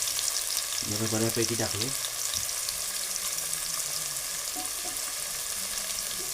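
Ginger garlic paste frying in a pan, a constant bright sizzling hiss heard up close, with a short spoken phrase partway through and faint clatter beneath.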